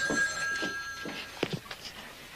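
A telephone bell rings in a short repeated burst inside a home, heard clearly up close with faint room noise around it.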